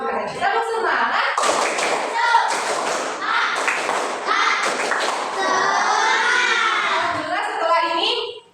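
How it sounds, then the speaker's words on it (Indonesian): A primary-school class claps a patterned rhythmic cheer together at the end of a lesson, sharp group claps in bursts with children's voices chanting along, ending in a short sustained call before cutting off. "tepuk semangat sekali lagi sebelum kita akhiri"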